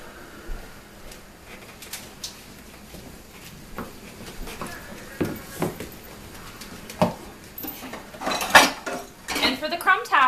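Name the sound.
stirring rhubarb pie filling in a bowl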